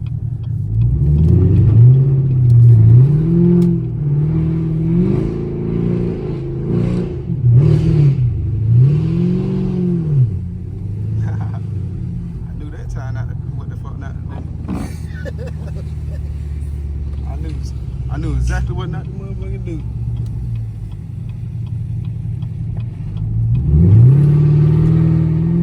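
Chevrolet Camaro 2SS engine revving and accelerating on snowy streets, a close, loud rumble with repeated rising throttle surges, one more surge near the end, while someone talks over it.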